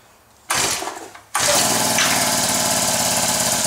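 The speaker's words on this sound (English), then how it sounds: "Second pull, fired right up." Husqvarna 324L string trimmer pull-started: a brief sputter on the pull, then the small engine fires and runs steadily and loudly, close by, with no talking.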